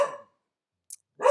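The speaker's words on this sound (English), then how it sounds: "Bark, bark, bark." A dog barks twice up close, a short sharp bark at the start and another at the end, with near silence between.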